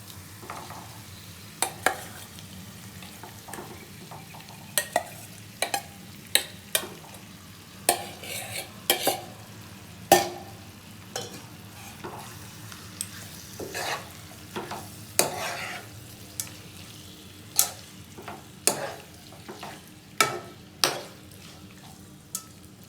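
Chicken frying in oil while being stirred, a quiet continuous sizzle broken by frequent sharp scrapes and clanks of the ladle against the pan, close by with no talking.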